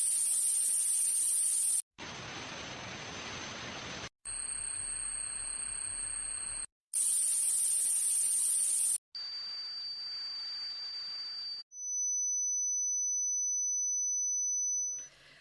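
A series of harsh simulated ringing and static sounds: bursts of hiss and crackle alternate with piercing high tones, ending on a steady pure whine.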